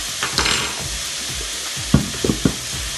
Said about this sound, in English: So we continue until it cook well, the bacon.